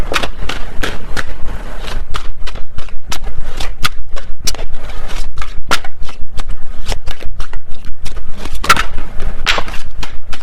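Tarot cards shuffled by hand close up, a fast run of crisp riffling snaps and slaps repeating steadily for about ten seconds with no voices.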